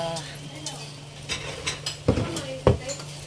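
Tofu dropped into a pan of vegetables and stirred, with a few soft clinks and scrapes of a utensil against the pan, two sharper knocks near the end, over a low steady hum.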